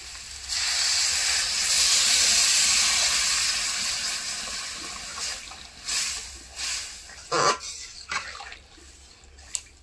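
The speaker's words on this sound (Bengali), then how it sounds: "ঝোল তো আমার বেশ ফুটে গিয়েছে" Fish and potato curry simmering in a pot with a little added water, giving a steady hiss and bubbling sizzle through the first half that fades into scattered clinks and stirring knocks.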